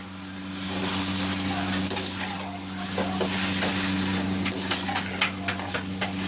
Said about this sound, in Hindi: अच्छे से इसको मिक्स कर देंगे।